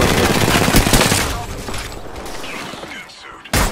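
Dense rapid gunfire from a video game shooter, loud bursts and crackling shots layered over each other, easing briefly before a sharp final blast.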